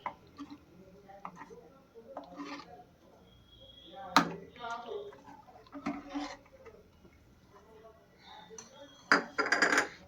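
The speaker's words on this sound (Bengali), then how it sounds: "এক কাপ গুঁড়ো দুধ এতে আস্তে আস্তে দেব আর মেশাবো" Milk powder spooned slowly into milk in a pot and stirred, giving sparse clinks and soft scrapes of utensils against the vessel, quiet and intermittent, with a brighter clatter near the end.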